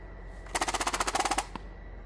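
A Nerf Dart Tag blaster fires foam darts in a rapid, rattling burst of about a dozen sharp snaps in under a second, then one last click. The sound is close and loud, with no voices.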